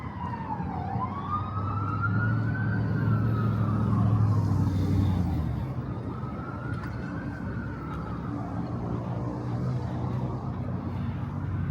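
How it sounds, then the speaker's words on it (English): An ambulance siren wails in slow rising and falling sweeps on a Brooklyn street, loud and fairly close, over a rumble of passing traffic. "There's an ambulance out here outside the T-Mobile."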